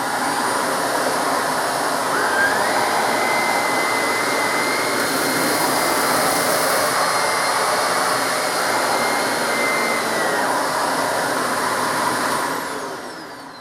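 A Shark Navigator Lift Away vacuum cleaner runs steadily and loudly while sucking up shredded paper, its broad whooshing motor roar holding constant for the whole stretch before tapering off at the end.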